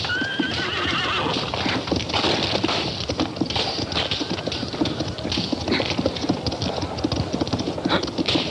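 Horses whinny near the start while many hooves clatter in a fast, continuous clip-clop, loud and close, like a galloping group.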